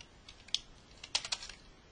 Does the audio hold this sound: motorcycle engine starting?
no